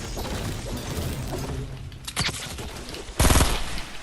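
Gunfire bursts in a Fortnite solo match, a rapid rattling volley followed by a loud, sharp shotgun-like blast, close and dominant.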